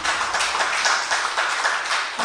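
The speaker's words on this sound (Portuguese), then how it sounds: "Que as palmas possam louvar ao Senhor" A church congregation applauds during a service, producing a dense, even wash of clapping with soft rhythmic swells and no voices over it.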